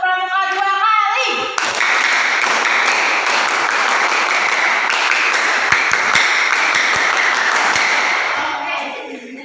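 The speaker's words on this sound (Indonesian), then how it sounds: "Sekarang kita coba tepuk pramuka 2 kali" A group of children performs the rhythmic Indonesian scout clap, tepuk pramuka, twice in a classroom, with bright, dense hand claps that start sharply after a brief voice and carry on loudly before tapering at the end.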